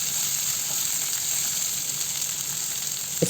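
Coarsely chopped onions drop into hot oil with whole cumin seeds and sizzle in a steady, close, continuous hiss, with a small clatter right at the end.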